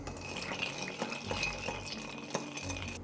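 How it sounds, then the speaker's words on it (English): A cocktail stirred with ice in a mixing glass, giving soft continuous swirling with light, irregular clinks of ice against glass, faint and close, no talking. "And stir for about 20 rotations."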